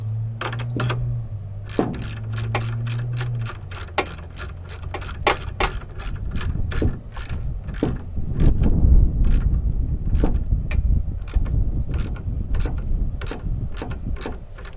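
Socket ratchet clicking in quick repeated bursts while tightening the axle nut during a brake kit install on a Razor Crazy Cart, close and loud over a low hum, with no talk.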